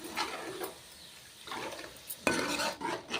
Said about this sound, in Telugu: దాంట్లో కొంచెం చింతపులుసు పోసి కలబెట్టుకుంటా